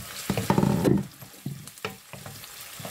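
Onion frying in a pan with fresh curry leaves for a beans and potato dish, stirred with loud scraping bursts over a steady sizzle, the strongest stirring early on and then softer intermittent strokes.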